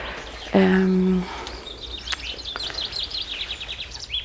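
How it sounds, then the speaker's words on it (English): Birds chirp and trill in quick, high repeated notes through the latter half, moderately near, among bees in a Nordic food forest in June, after a brief low tonal hum at the start. "I really do hope you can hear the birds"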